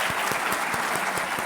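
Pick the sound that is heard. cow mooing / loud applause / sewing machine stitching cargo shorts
loud applause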